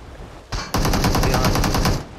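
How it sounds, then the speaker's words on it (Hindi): Rapid automatic gunfire in PUBG Mobile, a loud sustained burst of evenly spaced shots after a single opening shot. "अभी हमें कोई गोलियां मार रहा है यार।"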